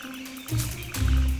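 A giant frog calls in a calm Australian wetland, giving two short, deep, resonant croaks close to the microphone, with a faint tonal hum underneath.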